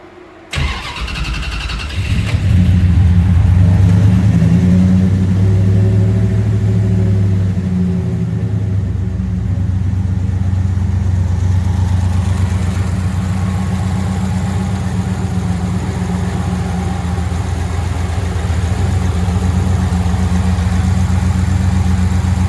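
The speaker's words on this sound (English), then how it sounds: "I loaded this tune into the car and fired it up" Turbocharged 5.9 Magnum V8 in a Dodge Diplomat cranks briefly and fires, revving up loudly before settling into a steady, deep, rumbling idle with a slightly lumpy cam rhythm and ticking valve train.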